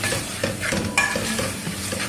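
Softened onions and tomatoes are mashed with a spoon in hot oil while cooking potato and bitter gourd curry, giving soft scraping and squishing strokes over a steady close sizzle, with a brighter clink near the middle.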